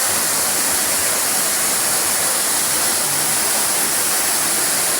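Water rushing steadily at a waterfall, a loud, dense, continuous roar with no break, heard alone with no talking.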